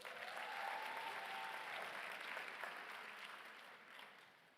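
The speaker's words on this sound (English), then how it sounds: "Can we give them a round of applause?" Audience applause at a university graduation ceremony after a police band performance, a sustained wash of clapping from a large crowd, fairly distant and faint, tapering off near the end.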